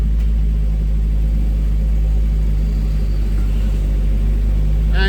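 Mid-engined modified Suzuki Swift drift car sliding, heard as a loud, steady low engine rumble with a constant droning tone, close and unbroken for the whole stretch.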